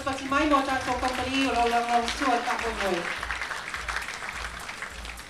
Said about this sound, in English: Please, they deserve a round of applause